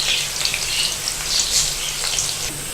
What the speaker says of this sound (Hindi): ये मैं ऑयल में डाल दूंगी और इन्हें ब्राउन होने के लिए छोड़ दूंगी।